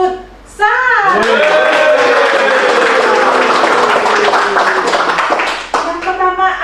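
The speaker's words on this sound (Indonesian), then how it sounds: "Ayo kita berikan tepuk tangan yang meriah" An audience bursts into dense, loud applause for futsal team representatives at a naval-base gathering, sustained for several seconds between a brief spoken lead-in and talk resuming at the end.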